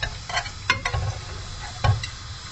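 Guanciale fat sizzles in a hot pan, with scattered sharp ticks and scraping stirs over a steady crackle; no voices.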